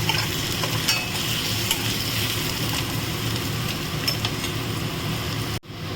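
Garlic and ginger fry in a pan for chicken do-pyaza, a dense, steady sizzle with scattered stirring clicks, close and loud, running unbroken before a brief cut near the end.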